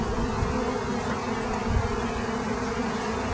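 A steady, dense buzzing of many honeybees, loud and close, continuing without a break.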